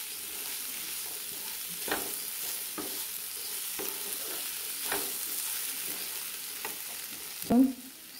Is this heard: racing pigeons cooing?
no